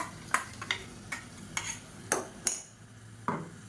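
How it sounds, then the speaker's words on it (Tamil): Blended tomatoes and masala are sautéed in oil in a pan for a Tamil kuzhambu, with sharp spoon scrapes against the pan at irregular intervals over a low sizzle, close and with no talking. "இதையும் சேர்த்து நல்லா வதக்கி விட்டுக்கலாம்"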